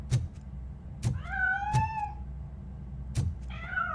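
A cat meows in RoboCop Rogue City, several drawn-out, wavering meows near at hand, mixed with sharp clicks or taps and a low steady background hum.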